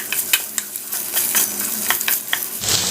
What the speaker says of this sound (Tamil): எல்லா மசாலாவும் ஒன்று சேர நல்லா மிக்ஸ் பண்ணி கொடுங்க